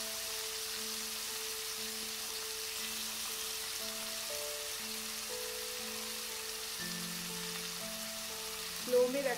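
Prawns frying over a slow flame for a Bengali malai curry, a steady soft sizzle and crackle that continues evenly throughout, with a faint tonal hum underneath and a brief louder clatter at the very end.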